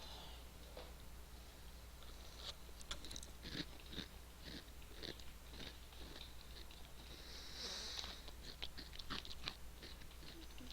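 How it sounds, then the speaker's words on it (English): Crunching cereal being chewed close up, a run of short, dry, irregular crunches over a steady low hum, with a slightly denser burst of crunching near the end. "Would you actually like the sound of crunching cereal?"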